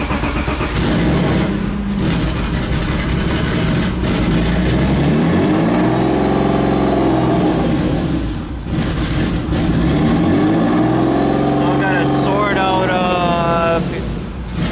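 A turbocharged BMW E36 cranks and fires up, then idles and revs unevenly with a vacuum leak, loud and close, its engine note rising and falling, with a faint hiss and a person talking over it.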